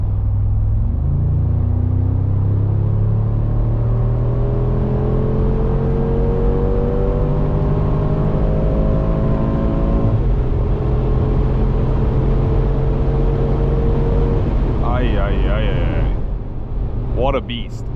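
2027 Mercedes G63 AMG facelift V8 in Sport Plus mode pulling hard on an unrestricted Autobahn, a loud rising engine note climbing through gear changes, heard from inside the cabin with a voice coming in near the end.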